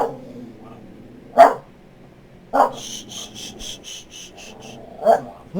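A dog barks three separate times, sharp single barks spaced a second or more apart, somewhat distant, with faint insect-like chirping and rubbing noises between them.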